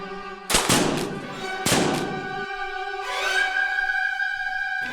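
Soldiers fire muskets in a reenactment of the 1842 Venda Grande battle of the Liberal Revolution, two loud close booming shots about a second apart, with sustained music and background noise continuing after them.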